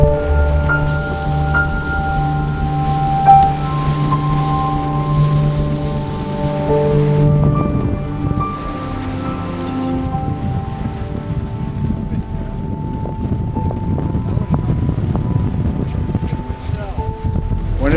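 Wind gusts and rain on the course of an ultramarathon, fifty marathons in fifty states, rumble steadily against the microphone under a low hum and faint distant sounds, with no clear talking.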